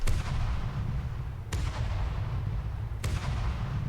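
A warship cannon in From the Depths fires three heavy, evenly spaced booming shots over a constant low rumble.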